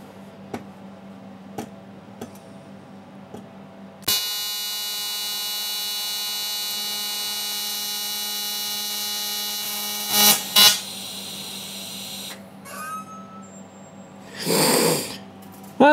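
A TIG welder on aluminium at 100 amps AC gives a loud, steady buzzing hum for several seconds after a few clicks, then crackles and sputters as the tungsten dips into the metal before the arc stops.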